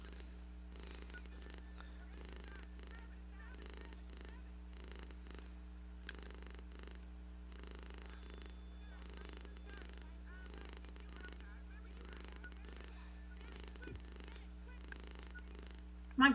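A house cat purrs loudly and steadily at night, a continuous low rumble running through the whole stretch while people talk over it.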